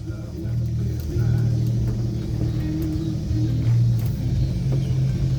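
A 1965 Chevy backing up as the clutch is let out, its engine a loud, steady low rumble that swells slightly as the car rolls, with a faint voice now and then.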